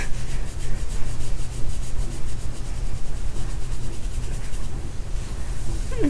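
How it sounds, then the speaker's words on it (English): Fingers scratch through a head of hair at close range in an ASMR comfort roleplay, a steady dense rubbing and scraping that continues without pause, with no talking. "it sounds like I'm scratching the crap out of your head"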